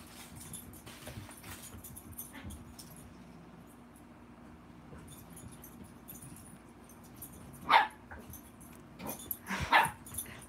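Two sharp dog barks ring out close by near the end, after a stretch of quiet room noise and faint rustling.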